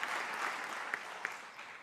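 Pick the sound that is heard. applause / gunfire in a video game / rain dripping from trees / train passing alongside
applause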